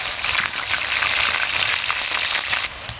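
Onion sizzling in hot mustard oil in a pan, a loud continuous crackling hiss that holds steady, with no voice over it.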